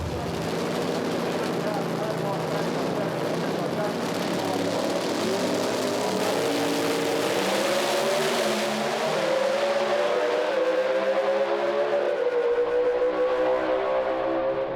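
Drag racing cars roar down the racetrack at a Speedweek event, a loud sustained engine howl that climbs steadily in pitch as the car accelerates away, with no talk over it.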